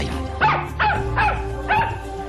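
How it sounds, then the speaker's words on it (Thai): An animated puppy barks four times in quick succession, loud and close, as it runs happily into a Buddhist monastery in a narrated Jataka tale, with a steady tonal background underneath. "พบเห็นลูกสุนัขตัวนี้ วิ่งตะบึงเข้ามาในพระอารามอย่างดีอกดีใจ"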